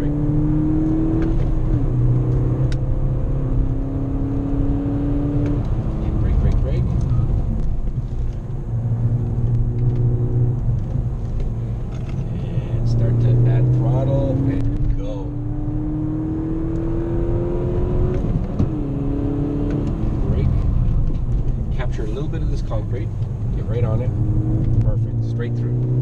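A Volkswagen GTI accelerating on a race track during a track day, its engine note rising and falling through repeated revving pulls with a loud steady rumble, while someone talks over it.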